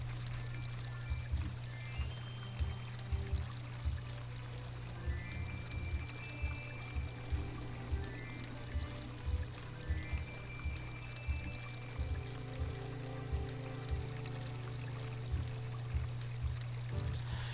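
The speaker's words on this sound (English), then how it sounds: "And now, we get to hear a little jingle" The short daytime jingle from the video game The Legend of Zelda: Ocarina of Time plays quietly as a simple melodic phrase over soft, regular low pulses of game background sound.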